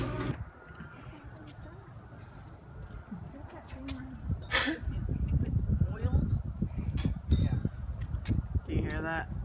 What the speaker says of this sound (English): Besides the crickets?